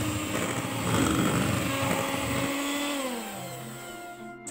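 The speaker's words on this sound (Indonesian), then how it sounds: "Kemudian mixer dengan kecepatan rendah sampai merata." Electric hand mixer whirring at low speed through cake batter for pandan sponge cupcakes, a steady motor drone that eases lower partway through before cutting off at the end; no talking.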